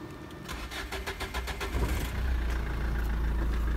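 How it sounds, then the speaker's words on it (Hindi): Cold start of a car engine that had been parked for an unknown number of days: a brief cranking rattle, then the engine catches and settles into a steady, fairly quiet low idle, with no voices. "इसे करते हैं कोल्ड"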